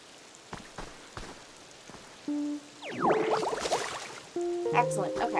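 Watering crops in the Pokopia video game, a splashy pattering spray of water with light chimes and short musical game tones over quiet background ticks.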